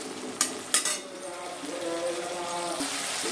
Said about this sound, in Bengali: লবণ দিয়ে এবার নেড়ে টমেটোটা একটু গলা গলা হয়ে আসবে